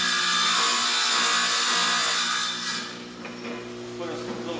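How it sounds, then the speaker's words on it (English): A RIDGID wet saw cuts the end of a board, its loud steady whine running for a few seconds before dropping away into the quieter hum of the motor winding down. "I'm going to cut the other end first a little bit."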